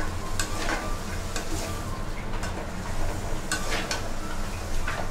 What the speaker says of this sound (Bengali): এখন ভালোভাবে কষিয়ে নিব।